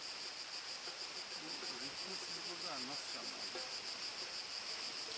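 A steady high drone of crickets chirping fills an outdoor night, constant and moderately loud. A voice speaks quietly underneath.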